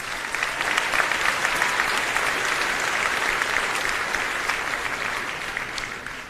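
A large audience applauds steadily at a high school graduation ceremony, a dense, even wash of clapping that holds for several seconds and eases slightly toward the end, with no speech over it.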